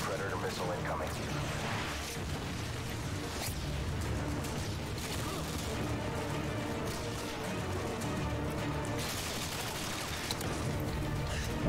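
Peacekeeper gunfire in Call of Duty Modern Warfare 2 Remastered multiplayer, a dense stream of shots and explosions layered over continuous game noise, with a player talking over the action.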